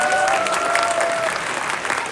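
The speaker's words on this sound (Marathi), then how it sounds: "मी दिग्दर्शकांना विनंती करतो वैभव कदम यांना एकदा जोरदार टाळ्या वैभवसाठी." An audience claps for the director of a Marathi historical drama staged at a Shivjayanti celebration in Munich. The applause is steady and dense and carries on through the whole moment with no talk over it.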